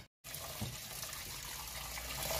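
Water runs steadily from a tap into a container to soak rinsed oiji, Korean salt-pickled cucumbers, and draw out their saltiness. The close, even rushing begins after a brief silence and continues without a break.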